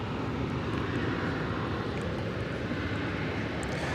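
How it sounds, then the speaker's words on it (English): Steady, even roar of an Airbus A321 jet airliner at DFW Airport, a broad continuous rumble holding at one level for the whole stretch with no voices. "It's an Airbus A321 flight"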